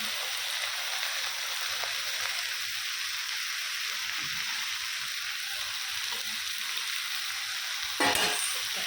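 Butter sizzles steadily in a frying pan, a dense, even crackle that stays close and continuous, with a brief louder burst near the end and no talking.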